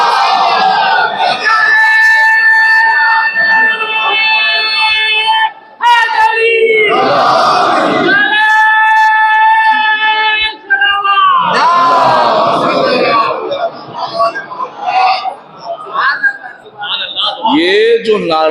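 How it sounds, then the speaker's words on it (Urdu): A large crowd at a Shia majlis in Delhi roars the Nara-e-Haidari chant in loud, swelling waves of massed voices, with brief dips between surges and a fading, scattered end. "یہ جو نعرہ حیدری ہے آپ اسے بڑے خلقے میں لے رہے ہیں"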